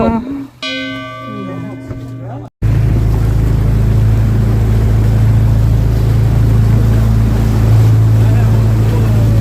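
A motorboat engine drones loud and steady across the water on a boat outing, with a steady low hum and wash. It follows a brief opening of voices and tones, then a moment of silence.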